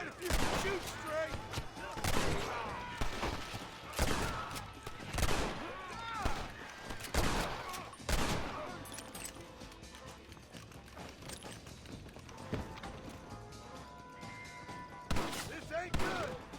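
Rapid, repeated gunfire from the Red Dead Redemption video game, loud overlapping shots crackling in irregular bursts over a busy battle ambience, with voices and hoofbeat-like clatter mixed in.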